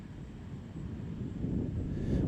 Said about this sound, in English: here's that gust of wind.